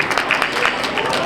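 Audience applause at a youth fair market goat show in Polk County: a steady, dense spatter of clapping that fills the whole moment at moderate loudness, mixed with crowd murmur and voices.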